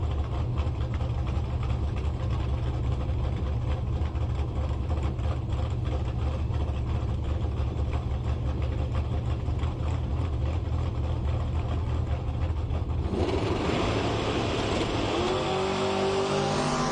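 A drag race car launches down the strip, a loud sustained engine roar that holds steady, then shifts abruptly near the end as the pitch climbs and the engine revs harder.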